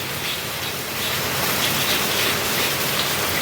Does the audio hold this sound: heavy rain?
yes